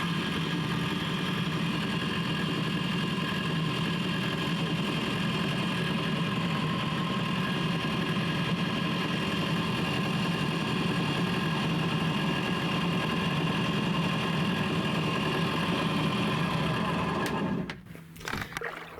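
A boat engine under repair runs loud and steady with a constant droning whine from noisy gears, close up, then cuts off abruptly just before the end.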